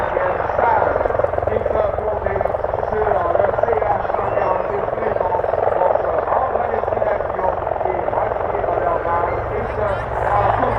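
An RCAF CH-146 Griffon military helicopter in forest camouflage flies at an armed forces day air show, its steady broadband rotor and engine roar loud and continuous throughout, with a public-address voice running underneath.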